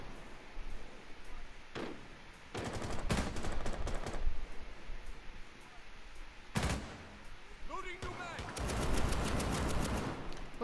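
Gunfire in a ranked online shooter match comes in several sharp bursts of rapid automatic shots, some clustered tightly and others spaced apart, loud against a low background.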